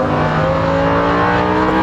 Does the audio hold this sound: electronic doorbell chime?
no